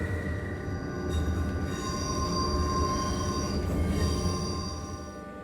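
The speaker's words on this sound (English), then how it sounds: "We were just waiting to pass that other train on the opposite direction because it's a single track." The Bernina Express train in the Swiss Alps passes on a single track, giving a loud continuous rumble of wheels on rails with high metallic squeals that ring out steadily for several seconds and fade slightly at the end.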